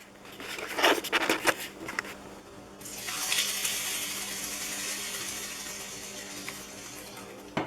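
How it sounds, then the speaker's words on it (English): Milk is poured into a bowl of oatmeal, a steady close liquid splash and trickle that starts partway through after a few handling knocks and runs evenly for several seconds. "Now I'm going to put in 1 cup of milk."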